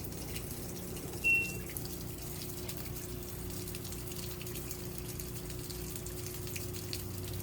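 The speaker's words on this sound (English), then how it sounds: "Got to dump out some of the water before it gets there." An LG washing machine drains water before its spin cycle, giving a low, steady pump hum and faint trickling that run evenly throughout, with one brief high beep near the start.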